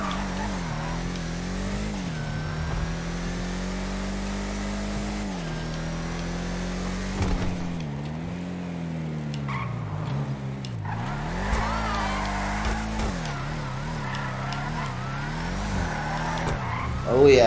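A Bravado Gauntlet Classic muscle car in GTA Online roars through revs and gear changes while tires squeal in drifts, the engine note rising and dipping continuously with a voice speaking underneath.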